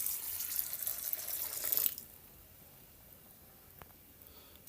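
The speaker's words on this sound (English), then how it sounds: "Pour in some water to wash my rice." Tap water pours into a bowl to wash rice, a steady close rushing stream for about two seconds that abruptly stops, leaving a quiet room with one faint tap.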